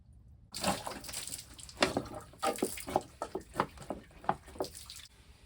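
Water drains out of a 4L60E automatic transmission, spilling in uneven splashes and drips close by, with irregular bursts of trickling and a few louder spatters over a few seconds.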